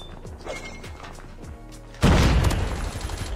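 Gunfire in Call of Duty Mobile with a Peacekeeper MK2, a run of quick shots and mechanical clicks at moderate volume that swells into a louder, denser burst of firing and impact noise.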